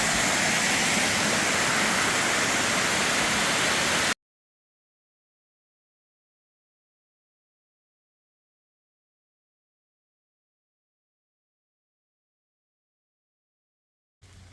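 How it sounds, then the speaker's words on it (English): Waterfall cascading down Mount Moosilauke, a loud, steady rush of water for about four seconds, followed by a long stretch of total silence and a faint return at the very end. "Now some more of the waterfalls that comes down the mountain."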